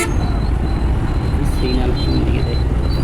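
Dense road traffic crawling through a jam on the Rajshahi to Naogaon road in Bangladesh, a steady loud rumble of engines and buses with occasional horn tones, heard from close by without a break.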